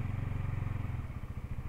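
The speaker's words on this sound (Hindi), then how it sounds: "ये चौथा में, मतलब कि आप लगा लो 2000 RPM पे बाइक स्टार्ट हो रही है भाई।" KTM Duke 200 BS7 motorcycle engine catching on a start attempt, a close, steady low throbbing idle with a rapid rhythmic pulse that turns slightly uneven toward the end.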